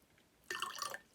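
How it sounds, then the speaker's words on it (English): Water being poured into a plastic SpongeBob cup during a musical cups experiment, a short close splashing trickle of about half a second, rising from quiet and stopping abruptly. "Let's add even more water."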